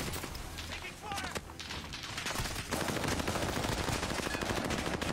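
Sustained gunfire in a Call of Duty match, with bursts of automatic shots and heavier blasts that build into a dense, continuous barrage. A voice speaks underneath.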